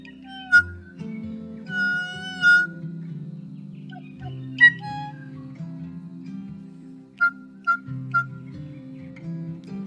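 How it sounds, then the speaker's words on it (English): North Island Kōkako gives mellow, clear whistled notes and short sweeping phrases, spaced out with pauses between them over a soft low background hum. "perhaps sounding similar to its North Island cousin, which sounds like this."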